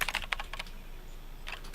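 Typing on a computer keyboard in the game Event[0]: quick uneven bursts of key clicks, a pause, then a few more taps, close and moderately loud.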